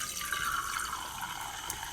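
A cup of water is poured steadily for cake-pop batter, a soft continuous trickle and fill lasting a couple of seconds with no voices.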